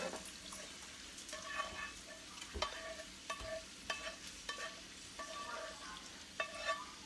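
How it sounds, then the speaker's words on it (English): Mushrooms for Philly cheesesteaks sizzle quietly in a pan while being stirred, with scraping utensil strokes and soft clinks recurring over a low frying hiss, fairly faint and without speech. "And I'm going to add the mushrooms."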